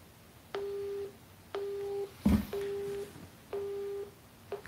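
Telephone busy tone on a call to a mobile number that has been blocked: four evenly spaced, steady beeps of moderate loudness, with a short rustling burst in the middle and no talk.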